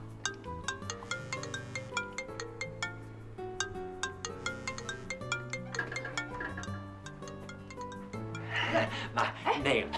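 A mobile phone ringtone plays a bright, repeating melodic tune for several seconds in a home during a family conversation, with a burst of noisier clatter near the end.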